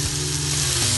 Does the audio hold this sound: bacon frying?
yes